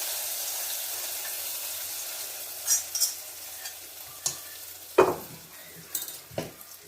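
Hot fried fenugreek tempering is poured into sambar, bursting into loud, sharp sizzles and spatters after a quiet start, then several more crackling bursts as it settles, with no voices.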